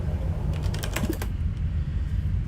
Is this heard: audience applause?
no